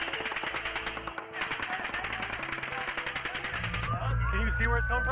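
Relentless rapid gunfire from a mass shooting at a music festival rattles in quick repeated bursts, with frightened voices and crowd noise mixed in throughout.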